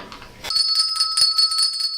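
A single hand bell is rung in a studio to open a morning show: a sharp strike after a brief moment of quiet, then a bright metallic ring that sustains steadily and clearly to the end.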